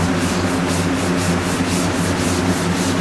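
Hand scuffing of an MGA car body panel with Scotch-Brite during restoration paintwork, a steady rhythmic back-and-forth rubbing rasp, close and continuous, strokes pulsing about three times a second.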